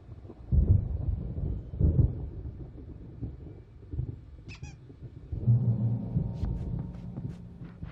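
Low thunder rumbles in the Alan Wake video game as a storm approaches, with heavy rolling swells and a deep sustained roll near the end, broken by brief high squeaks.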